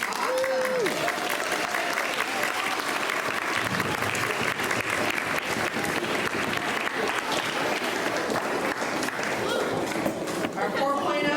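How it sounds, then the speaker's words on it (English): Applause from students and families at a sixth-grade honor roll assembly in a school hall, sustained crowd clapping with some footsteps and background voices throughout. "Let's give them a round of applause."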